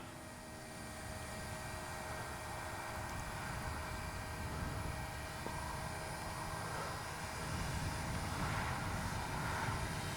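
A Great Planes Ryan STA radio-control model airplane in flight, its motor a steady distant drone with a faint whine that swells slightly toward the end.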